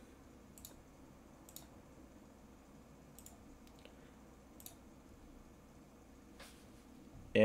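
Computer mouse clicks while setting up Windows 1.01 in VirtualBox: several sharp, isolated clicks spaced over a quiet background, close and crisp.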